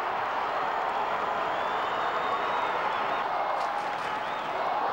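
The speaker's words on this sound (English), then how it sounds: "Crowd is roaring for the Hawks" A large crowd roars steadily at a 1997 Hawthorn versus Port Adelaide AFL football match, a dense sustained roar of cheering and clapping filling the whole stretch at even loudness.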